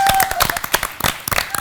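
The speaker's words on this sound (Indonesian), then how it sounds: "kita beri tepuk tangan dulu" A studio audience at the TVRI quiz show Kuis 5X5 breaks into lively applause, with dense, crisp clapping throughout and a voice faintly audible underneath.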